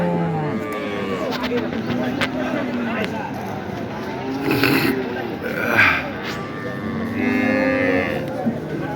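A dairy cow moos several times, drawn-out low calls, amid background voices and outdoor noise at the Ambari cattle market in Dinajpur.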